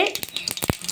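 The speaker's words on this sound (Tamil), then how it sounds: "கடுகு வெடிக்க ஆரம்பிச்சிக்கிச்சு" Sharp little pops and crackles burst irregularly over a soft sizzle, close up, as mustard seeds split in hot oil.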